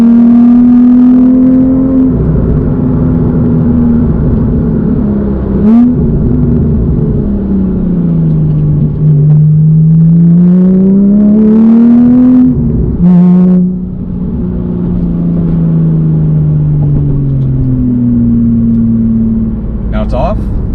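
A Porsche engine revs up and down repeatedly through a loud modified exhaust, rising and falling in pitch over a deep rumble, then settles to a steady idle.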